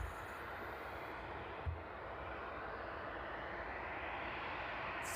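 A DHL Boeing 767 cargo plane arriving at East Midlands Airport produces a steady, broad engine roar heard from a distance, constant throughout with no voices.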